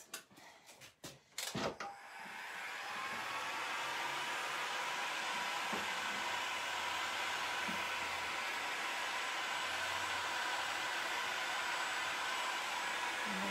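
A heat gun warming an oak bendable wood moulding: a few sharp knocks and handling clicks at the start, then a loud, steady blowing whir that continues unbroken to the end.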